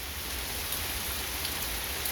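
Steady rain falls on outdoor surfaces, making a continuous wash of close patter and hiss with a low rumble under it, heard alone for the whole stretch.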